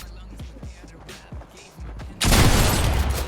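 Shotgun blasts from a first-person shooter match in Fortnite, a sudden loud burst of gunfire and explosive noise that starts partway through and fills the rest, after a quieter stretch of softer game clicks and thuds.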